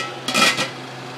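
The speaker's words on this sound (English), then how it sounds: "We can replace the lid so that it stays boiling" A metal lid set back onto a pot of boiling canning jars, one brief clanking rattle with a short ring over a steady low hiss of boiling water.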